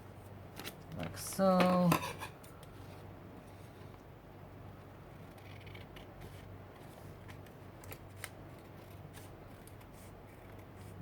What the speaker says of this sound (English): So I'm going to cut this